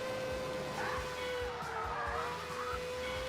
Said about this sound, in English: The car sounds absolutely amazing as well.